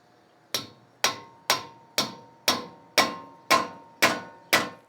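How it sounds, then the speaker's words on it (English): Mallet blows striking a bushing lodged in a Toyota Tacoma differential housing, nine sharp metallic hits at a steady pace of roughly two per second, each ringing briefly before decaying, close and loud with no talk. "I'm gonna try with a mallet first"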